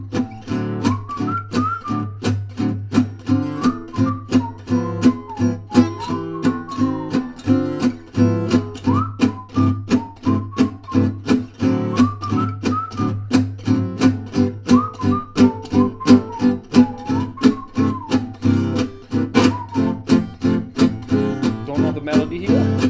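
A person whistles a melody over steady, rhythmic gypsy jazz guitar chord strumming, the whistled line weaving above the close, even beat of the chords.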